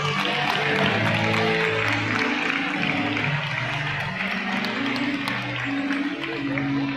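Congregation applause during a bilingual Spanish-Portuguese church service, a continuous broad wash of clapping with music tones and voices mixed underneath, steady and fairly loud throughout.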